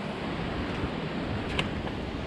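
Surf washing ashore at King's Landing (Pumaile) beach, a broad steady roar of waves mixed with wind buffeting the microphone, with no voices.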